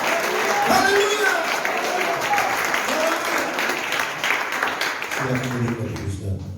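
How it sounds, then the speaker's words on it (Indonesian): A church congregation at a Sunday service in Makassar applauds steadily, a dense wash of clapping that continues throughout, with voices rising over it near the end. "Mari kita berikan tepuk tangan yang meriah"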